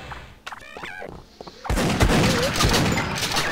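Quiet scattered clicks and thumps give way to a sudden loud burst of rapid, sustained gunfire in Sven Co-op, dense and close.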